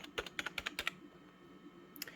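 Quick, soft keystrokes on a Sades non-mechanical 35-key gaming keypad: a burst of about ten muted taps in the first second, a pause, then two more taps near the end, close and fairly quiet.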